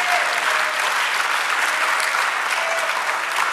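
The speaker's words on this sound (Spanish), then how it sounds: "Es para aplaudirle a Dios todos los días la obra de sus manos." A church congregation applauding during a Spanish-language sermon, with steady, dense clapping filling the space for several seconds at an even, sustained level.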